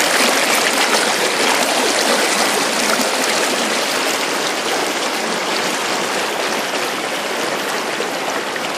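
Water and rocks rush down a gold sluice set in a river, a loud, steady, close-up wash of flowing water with a constant broadband roar throughout.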